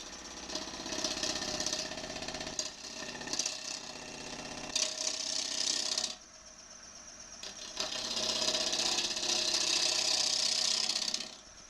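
A gouge cuts an out-of-round wooden bowl on a lathe: loud, steady close-up shearing and buzzing in repeated passes, broken by a short quieter gap before the cut resumes.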